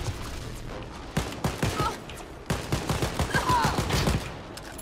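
Sniper rifle fire in the video game Wolfenstein: Youngblood, a run of sharp, loud shots landing every half second or so over steady game background, with a player voice briefly talking over them.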